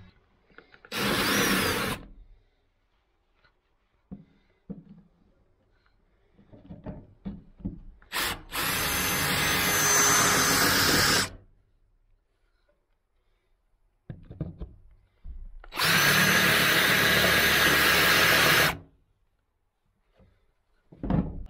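A power drill drives 1¼-inch number 8 screws into a wooden backboard during a narrowboat fit-out. There are three separate loud bursts of a few seconds each, close by, with quiet handling noises between them.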